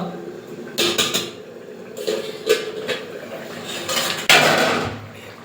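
Metal clatter of a cooking pot lid being lifted off a simmering pot of goat meat, with several sharp clanks and scrapes of utensils against the pot, a louder clang near the end, over low kitchen background.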